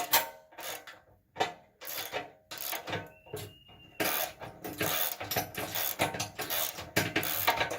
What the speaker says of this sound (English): And just go ahead and use my socket wrenches on this.